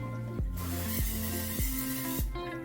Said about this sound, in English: I'm just going to spray my slow cooker with some avocado oil spray